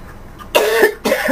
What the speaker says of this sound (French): Excusez-moi d'avoir toussé comme ça